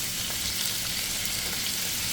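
Fish fries in a pan of hot oil, a loud, dense, steady sizzle and crackle close up, with no talking.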